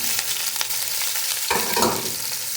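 Ginger, crushed garlic and chili fry in a pan with a continuous close sizzle, broken by a sharper burst of crackling and stirring near the middle.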